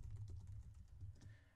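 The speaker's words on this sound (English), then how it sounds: "But you could just start typing straight away, just like any word processor." Typing on a computer keyboard in a WordPress editor, a quick soft patter of key clicks, close but faint, with no talking.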